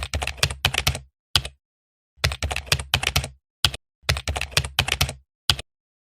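Someone types out a script on a keyboard during a drama scene about the Rengasdengklok events and the Proclamation. Bursts of rapid keystrokes come in several clusters, separated by short pauses, and sound close and fairly loud.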